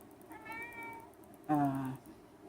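A pet cat meows twice near the microphone in a quiet room, a softer drawn-out meow followed by a louder, shorter one.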